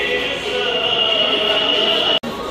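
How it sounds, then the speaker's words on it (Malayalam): A steady rumbling hum with a high whine passes close by, a small train in a shopping mall running continuously, then a brief cut near the end. "ഇപ്പോൾ ട്രെയിൻ പോയി, ക്യൂട്ട് ട്രെയിൻ ഗൈസ്"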